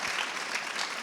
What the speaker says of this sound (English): I think that deserves the biggest round of applause.